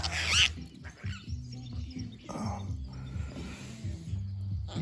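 Wild birds in the Australian outback let out a sharp chirp near the start, then fainter scattered calls over a steady, pulsing low rumble, likely a nearby idling engine, with no speech.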